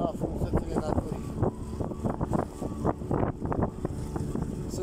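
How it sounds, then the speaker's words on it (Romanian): Strong wind buffets the microphone on a fishing boat out on the water, a steady roaring rumble with gusty bursts, while someone talks over it throughout. "vântul bate foarte, foarte rău"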